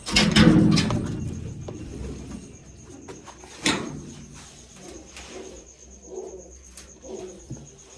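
Pigeons perched on a rooftop loft canopy coo repeatedly, with a loud, close burst of cooing at the start and softer coos continuing amid light ambient noise.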